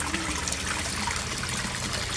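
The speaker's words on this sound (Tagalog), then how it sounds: "Yan ang aerator ko." A Resun aerator pump bubbles air into a koi pond, giving a steady, close wash of trickling, splashing water with no pauses and no one talking.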